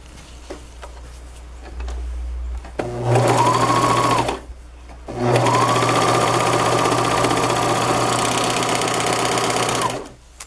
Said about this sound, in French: je vais venir passer une couture ici.